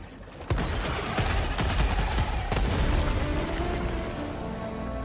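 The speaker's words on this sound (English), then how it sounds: "if you see me shooting, try to stay out of the way because I've got a incendiary shotgun and you will catch fire" A burst of close gunfire from an incendiary shotgun in Helldivers 2: a sharp blast followed by repeated overlapping shots and rumbling impacts amid game noise, with no voices.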